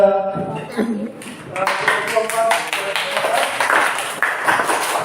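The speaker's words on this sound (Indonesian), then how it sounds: "Sekarang kasih beri tepuk tangan kepada" Students in an elementary school classroom clap their hands together: a teacher's voice speaks briefly at the start, then dense, steady hand clapping fills the room at close range for the remaining few seconds.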